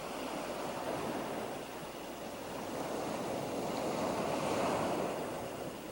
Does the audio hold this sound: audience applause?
no